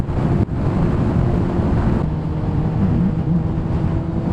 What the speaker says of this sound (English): It's stupidly windy tonight.